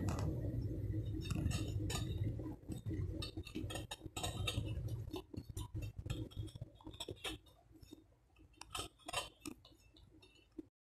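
A hand scrapes jaggery into a pan for Kerala kootucurry, making close, irregular scratching and clinking sounds with short bursts of metal and crumbling chunks that thin out toward the end.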